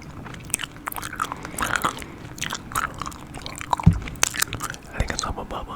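Close, wet chewing of Hubba Bubba bubble gum with soft smacks, squishes and small crunchy clicks at an irregular pace, intimate and near.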